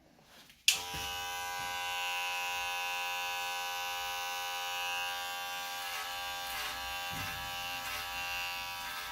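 Electric hair clippers fitted with a 1/8 inch attachment switch on and buzz steadily while trimming a man's hair, a close, constant motorized hum with slight shifts in tone as the blade moves through the hair.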